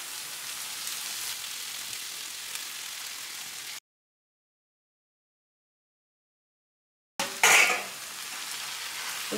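Noodles stir-frying for veg Hakka noodles, a steady soft sizzle that cuts to silence for a few seconds, then returns with a sharp scrape and clatter of stirring.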